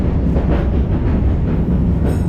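A historic tram on the Dockline Tramway rolls steadily along its rails, a loud continuous rumble with faint rhythmic clatter from the wheels.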